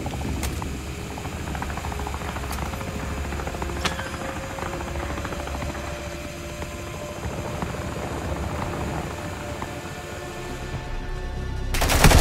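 Gunfire in Call of Duty: Modern Warfare II, sharp cracks and bursts scattered over a constant loud helicopter rotor drone, with a heavier swell of noise near the end.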